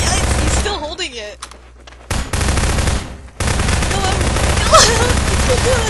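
Gunfire in the video game Prop Hunt crackles in rapid bursts across the clip, loud and close, with a short lull in the middle and voices talking in between shots.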